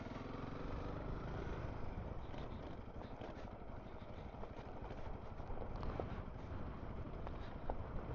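A Honda CRF300L dual-sport motorcycle rolls slowly in second gear over a rough, rocky Southern Arizona trail, its engine a steady low drone mixed with wind and crunching gravel throughout.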